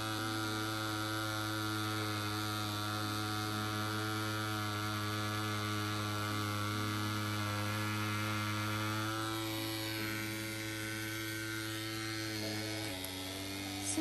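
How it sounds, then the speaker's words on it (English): Rhein EM 145 wireless lipstick tattoo machine working on silicone lips gives a constant close electric hum and buzz, steady throughout with a slight shift near the end. "let's see how this wireless machine works on the silicone"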